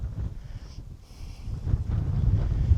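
Strong wind buffets the microphone beside a body of water out on the open moors, a steady low roaring rumble that swells louder toward the end, with no one speaking.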